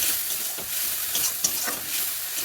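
Spices with cumin fry in a pan, a bright, close, unbroken sizzle with soft stirring scrapes and one small knock midway.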